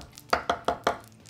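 Four crisp, evenly spaced knife chops on a board while a Spanish onion is cut into julienne strips, close and clear.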